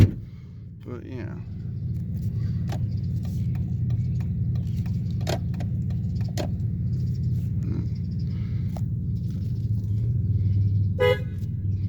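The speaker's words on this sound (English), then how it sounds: "Horn works." Short toots from the horn of a 2004 Chevy Impala LS, brief sharp honks spaced across the stretch over a steady low idle and outdoor background.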